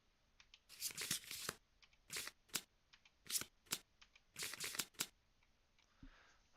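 Board game cards from Kingdom Death: Monster being shuffled by hand, several quick riffling bursts with short pauses between them, close and crisp, with no talking.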